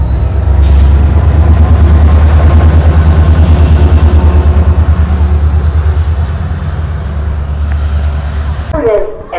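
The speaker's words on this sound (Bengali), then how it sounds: "একমাত্র আসামে এরকম বুলেট ট্রেন আছে যেটা শিলচর থেকে গুয়াহাটি পর্যন্ত যায়" Passenger train on the Silchar to Guwahati line, a loud close rumble with rhythmic wheel clatter and a faint high squeal, steady for most of the time before tailing off near the end.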